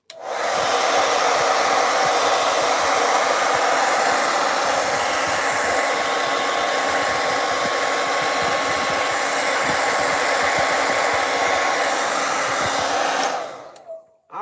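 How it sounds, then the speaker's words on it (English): A blow dryer drying a painting runs in one long, steady, loud whoosh for about thirteen seconds, then switches off abruptly. "Okay, blow drying time."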